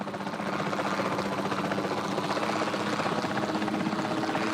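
Helicopter flying in Jurassic World Evolution 2, a steady close rotor drone with a pulsing thump that holds at an even, loud level throughout with no talk.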